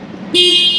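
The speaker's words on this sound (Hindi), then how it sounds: "अब हॉर्न की ना आपको आवाज़ सुना देते हैं।" A Yamaha RayZR 125 Hybrid scooter horn, street rally edition, sounds once after a short quiet start: a loud, steady, close electric honk held without a break to the end, with no talk over it.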